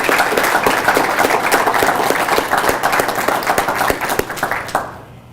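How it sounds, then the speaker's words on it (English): An audience at an Emerging Leaders Program session gives a hearty round of applause, with dense, loud clapping that stays steady for several seconds and then quickly fades out. "Please, everyone, a round of applause for Katie and Greg."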